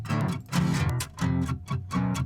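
Acoustic guitar in drop D with no pitch shifter, played palm-muted in four chunky, tight bursts with short gaps between them, close and without voices.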